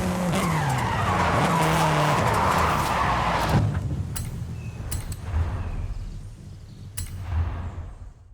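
Formula Drift 325 car in Forza Horizon skidding and squealing its tires through a drift, loud and continuous for the first few seconds, then easing into quieter engine rumble with a few sharp transient knocks.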